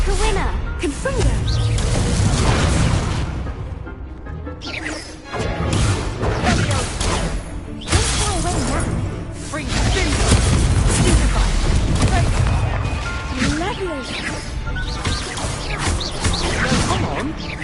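Confringo fire spells blasting during a duel in the game Hogwarts Legacy, loud booming explosions and crashes repeating over a dense battle mix, with brief spoken lines and grunts from the characters.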